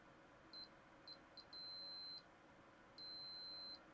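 Thin, high electronic beeps from Macintosh IIci logic boards under repair for leaky capacitors sound faintly, with two short chirps followed by longer sustained tones, over a soft background hiss.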